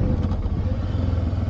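Motorcycle engine droning steadily at close range while riding along a road toward covered bridges near Cleveland, with a continuous low rumble and light clatter but no sharp revving.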